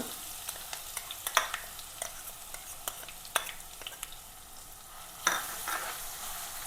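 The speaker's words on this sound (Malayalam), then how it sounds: "ഇതിലേക്ക് ഇഞ്ചിയും വെളുത്തുള്ളിയും ചതച്ചതില്ലേ അതങ്ങനെ ഇട്ട് കൊടുക്കുക" Crushed ginger and garlic frying in a pan for a pickle, a soft steady sizzle broken by scattered stirring clinks and scrapes, close and moderately quiet with no talking.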